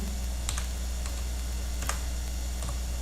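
Keys tapped on a computer keyboard while entering numbers, a few sparse, light clicks over a steady low hum, fairly quiet and close.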